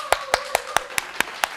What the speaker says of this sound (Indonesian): everybody tepuk tangan dulu guys